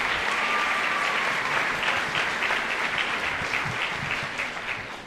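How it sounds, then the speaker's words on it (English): An audience at a middle school band spring concert breaks into strong, sustained applause, thick steady clapping in a large room that slowly tapers near the end. "So a huge round of applause for them and everything they do for us every single day."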